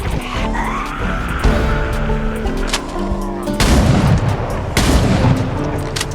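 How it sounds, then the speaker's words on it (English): Double-barrel shotgun blasts in the Project Zomboid video game, several loud booms with a sharp onset near the middle and later, set against a busy game soundscape. "I'm actually just gonna start blasting with a double barrel shotgun"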